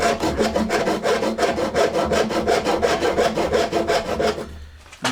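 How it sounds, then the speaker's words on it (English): Hand saw cutting down the middle of a mass-produced wooden saw handle, steady rhythmic back-and-forth rasping strokes, close and loud, stopping abruptly near the end. "And so I'm going to start by sawing right down in the middle."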